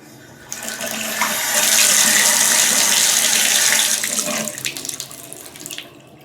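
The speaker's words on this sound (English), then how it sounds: "I'm going to turn the water on and see how it turns out." Water pours steadily from a newly installed bathtub faucet spout, a loud broadband rush that swells after the tap opens, holds for a few seconds, then tapers off as it is shut.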